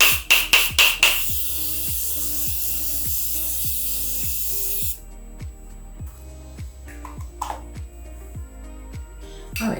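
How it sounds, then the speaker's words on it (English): Morphe Continuous Setting Mist sprays onto a face in a long, loud hiss of fine mist that runs for several seconds. Quick pumping clicks come just before it, and softer handling noises follow after the spray stops. "So I'm going to set my face with the Morphe Continuous Setting Mist."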